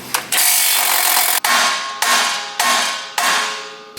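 A special tool tightens Terraflex set screws on a Jeep, making loud, close ratcheting bursts, one long run and then four shorter pulls, each ending sharply and leaving a fading ring.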